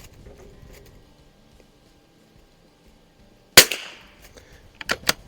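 An Anschutz Biathlon 1827 rifle is fired on an outdoor range: one loud, sharp shot after quiet handling noise, then two more close, crisp reports in quick succession near the end.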